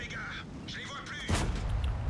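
A loud tank cannon blast from a Bat.-Châtillon 25t in the video game World of Tanks cuts through faint background chatter, followed by a rumbling echo that lingers to the end.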